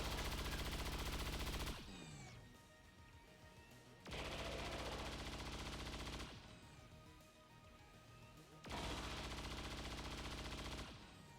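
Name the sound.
cyclic fire machine gun from video game XCOM 2 Long War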